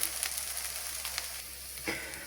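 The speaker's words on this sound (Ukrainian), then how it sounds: "Накриваємо кришечкою і на дуже повільному вогні смажимо з обох сторін до готовності." Cutlets fry in a covered pan over very low heat, giving a steady close sizzle with small pops throughout.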